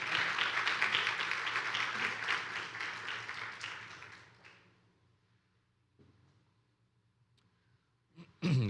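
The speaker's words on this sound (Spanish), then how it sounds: "Denle un fuerte aplauso al Señor." Church congregation giving loud sustained applause, dense clapping that fills the room for about four seconds before fading into near silence, with a brief noise at the end.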